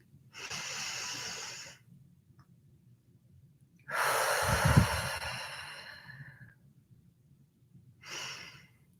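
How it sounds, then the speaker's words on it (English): Slow, deep breaths from a person leading a calm breathing exercise: a long airy inhale, a louder drawn-out exhale with a low rushing push, then the start of another breath, close and alone in a quiet room. "take a deep breath with me"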